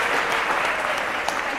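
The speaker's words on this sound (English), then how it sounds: "Give them a round of applause." An audience applauds two partner teachers at The High School of Hospitality during a literature-to-life program event. Dense, loud, continuous clapping fills the short stretch at an even level.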